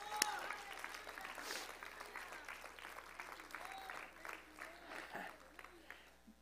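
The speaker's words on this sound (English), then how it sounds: "Let's clap our hands to the Lord right now." Worshippers clap their hands together in a church service, a lively mass of handclaps with voices calling out over them.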